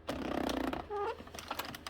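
An Addi circular knitting machine working Red Heart Comfort yarn, cranked slowly to catch stitches: close, rapid plastic clicking and ratcheting in short uneven runs, without talk.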